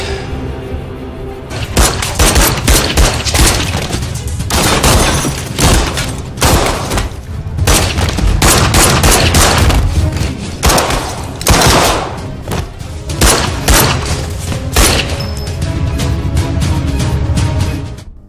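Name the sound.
gunfire in a film fight scene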